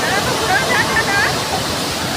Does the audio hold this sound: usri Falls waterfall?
yes